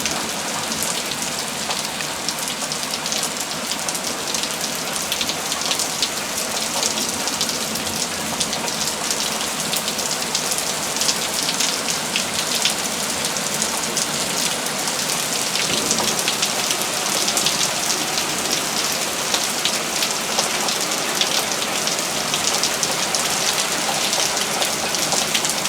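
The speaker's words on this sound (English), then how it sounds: "And it's raining pretty good." Heavy, steady rain pours down during a severe thunderstorm, a dense unbroken hiss of drops pattering on surfaces close by, continuous and loud with no voices.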